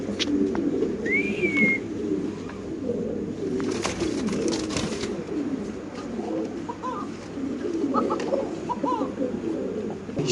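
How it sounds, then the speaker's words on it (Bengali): Low, soft cooing of a Spanish pigeon at a pigeon farm repeats against a constant hum and background noise, with a brief chirp early on and a few clicks. "এখানে আছে আরেক পিস কবুতর আপনি দেখতে পাচ্ছেন, আমরা দেখাচ্ছি আপনাদের ডাকটা"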